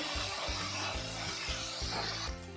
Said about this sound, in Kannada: ಲವಂಗ ಚಕ್ಕೆ ಕೊತ್ತಂಬರಿ ಪುದೀನ ಹಾಕೊಂಡು ಎಲ್ಲ ಸಾಫ್ಟ್ ಆಗೋರ್ಗು ಚೆನ್ನಾಗಿ ಫ್ರೈ ಮಾಡ್ಕೋಬೇಕು